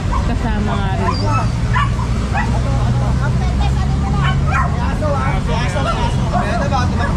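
Several dogs bark and yelp continuously and loudly during a clearing operation, with crowd chatter and traffic noise underneath.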